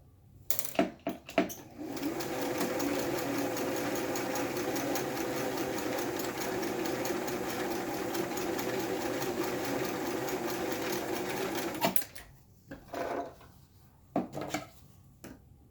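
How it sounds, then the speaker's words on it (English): A sewing machine stitches the nose and chin pieces of a fabric project, running in one loud, continuous whir for about ten seconds, framed by a few sharp clicks and handling knocks before and after, with no talking. "So then I'm going to sew the nose part and the chin part."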